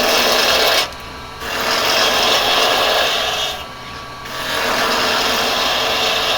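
A carbide chisel cuts wood on a lathe during a Christmas turning project, giving a steady loud rasping hiss that drops out briefly twice as the tool lifts off the spinning workpiece.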